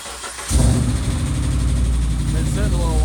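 A Jeep JK engine that has been sitting a while cranks and catches at about half a second, then settles into a steady, loud idle with a low rumble close to the microphone.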